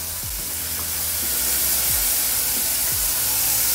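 Frozen peas hit hot oil seasoned with asafoetida and turmeric and set off a steady, loud, close sizzle. A few soft taps and scrapes sound beneath the hiss.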